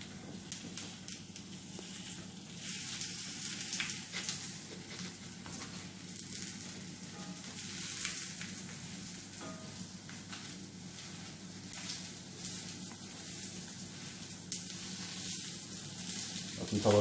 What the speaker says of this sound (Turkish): Şu boşluklara da sucuklarımızı kızartıyoruz.